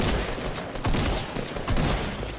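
Dense bursts of automatic gunfire from a Fortnite Battle Royale match, loud and sustained with rapid overlapping shots and a couple of stronger volleys, no talking.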